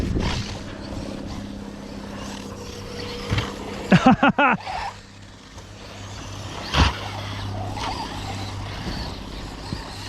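A modified Team Magic SETH radio-controlled car with a 1700 kV motor and small pinion runs steadily nearby, its electric whine holding under a few sharp clattering knocks, with background noise throughout.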